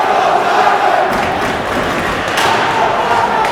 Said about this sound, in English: Let's go Diman, the chant from the Diman crowd. Somerset-Berkley counters with "We Can't Hear You."